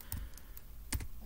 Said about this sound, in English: I'm gonna type sudo